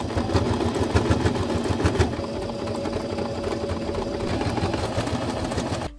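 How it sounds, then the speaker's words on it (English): Electric sewing machine running a zigzag stitch over a cord sewn in a circle, a steady fast mechanical whirr with rapid needle ticking, close and continuous, slightly lighter after the first couple of seconds. "Machine stitch, zigzag."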